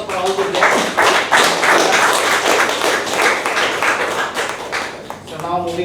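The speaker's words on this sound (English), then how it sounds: "Can we have a huge round of applause for all the guests?" A meeting audience applauds its guests with many hands clapping close and steady for several seconds, and a few voices briefly rise near the end.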